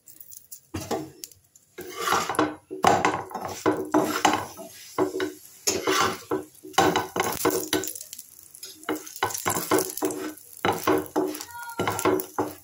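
Dough made with flour, a little white oil and salt, turned over and over while it fries in oil in a pan, with steady sizzling broken by scraping and stirring knocks from a utensil, close up with no talk.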